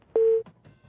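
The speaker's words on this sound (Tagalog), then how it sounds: "Asek nadula si Asek sa telepono" A single short telephone line tone sounds after a caller drops from a call. The steady beep lasts about a quarter second and is followed by faint background noise.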